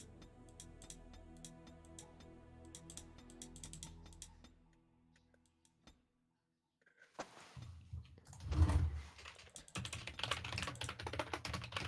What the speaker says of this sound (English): Frantic typing.